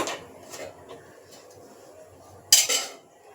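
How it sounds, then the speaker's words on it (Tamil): A metal pan set down on a kitchen stove, a sharp clank with a short rattle near the end, preceded by soft scattered metallic clinks, close and clear. "இந்த மாதிரி ஒரு பேன் எடுத்து வச்சு"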